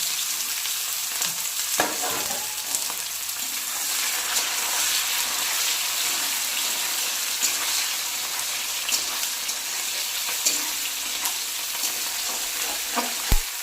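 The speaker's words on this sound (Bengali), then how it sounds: "এই যে পেঁয়াজটা ভেজে নিচ্ছি" Chopped onions fry in hot oil with whole garam masala in a wok for a mutton curry, giving a steady close sizzle broken by scraping stirs and occasional spatula clicks, with no talking.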